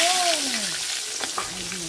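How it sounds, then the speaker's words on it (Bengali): Potatoes sizzle loudly in hot leftover oil from frying fish, a steady close-up crackling hiss with faint stirring and a person talking over it. "মাছ ভাজার তেলেই আমি আলু দিয়ে দিব এই যে আলু"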